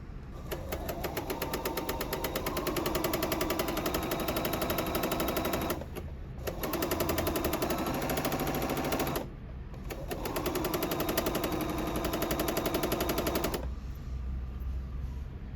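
A sewing machine stitches along the long side of fabric pieces for a carry-all caddy, running in fast, steady bursts with two short pauses between runs, close and alone with no voices.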